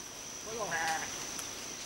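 A single sheep bleats once on a farm in Nicaragua, a short wavering call at moderate distance over a steady background hiss.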